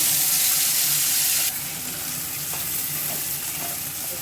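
A ground spice paste with dried red chili and black cumin (nigella) fries in hot oil, giving a loud continuous sizzle that eases slightly partway through, with faint stirring scrapes.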